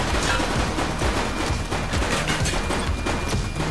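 Rapid bursts of gunfire in a police video game, dense overlapping shots forming a loud, continuous fusillade with booming low end throughout.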